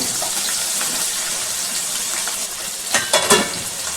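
Chopped green chillies and onions sizzle loudly in a pan as they are stirred for a brinjal and chana dal coconut curry, a steady, close frying hiss with a few utensil scrapes near the end and no talk.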